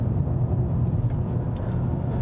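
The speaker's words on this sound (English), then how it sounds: "the 4-cylinder also has a good amount of road noise" Steady low rumble of road noise from inside a moving 2018 Toyota Camry XSE four-cylinder, loud and continuous, with tyres droning over the surface and no talking.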